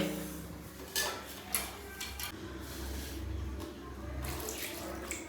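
Water poured as an offering at a Shiva temple, a faint trickle and splash with a few soft knocks and clinks, quiet and close in a hushed space.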